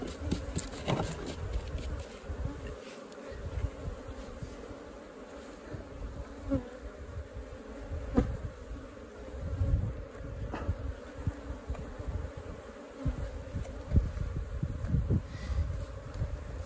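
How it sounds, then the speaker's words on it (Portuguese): Apis honeybees swarm into a hive box set on a termite mound in an open pasture, a steady dense buzzing that fills the whole stretch, with individual bees zipping close past amid faint wind and rustling. "as abelhas já começam a voar, já começam a acumular aqui"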